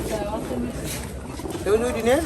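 Pigeons coo at a village market in Haluaghat, Mymensingh, where pairs of young pigeons are sold, with soft rolling calls rising and falling against the market bustle and a louder coo near the end.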